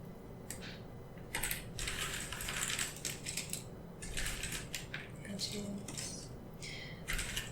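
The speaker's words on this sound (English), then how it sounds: "Just shuffle things up here a bit and listen to the puzzle pieces." Light rustling and clicking of cardboard jigsaw puzzle pieces being stirred and shuffled, in repeated soft bursts over a low steady background hiss.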